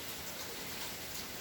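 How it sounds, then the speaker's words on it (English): Heavy, steady rain falls during Hurricane Ian with no wind, a dense even hiss that holds constant and fairly faint throughout, alone without voices. "it's just a steady flow of rain, heavy rain"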